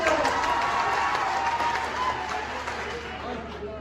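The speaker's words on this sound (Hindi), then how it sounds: "सबकी फरमाइश है, तालियां बजा दो।" A crowd claps steadily at a college annual function, a dense wash of applause that fades slightly toward the end, with voices murmuring underneath.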